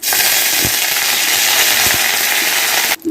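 Curry leaves dropped into hot oil already popping with mustard seeds and dried chillies while making a radish stir-fry, giving a loud, dense, continuous sizzling crackle that runs steadily for about three seconds before cutting out.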